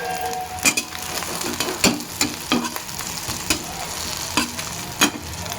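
Chopped raw onion and green chilli fry in hot oil while being stirred with a utensil, giving steady sizzling crackle punctuated by several sharp scraping stirs against the pan, close and fairly loud.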